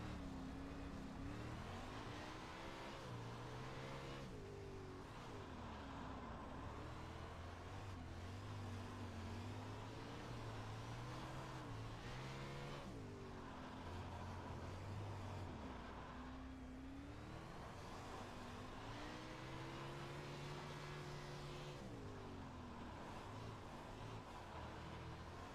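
A sprint car engine drones steadily in iRacing, a loud continuous motor whose pitch rises and falls in repeated waves as the throttle is worked around the track, with no voices.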